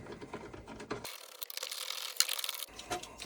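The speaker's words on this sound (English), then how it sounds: "So this is a T27 Torx bit. So undo these." A ratchet driving a T27 Torx bit undoes seat screws on a VW T6 seat base, with quick clicking bursts and a faint mechanical whir, fairly quiet and close, with no talk.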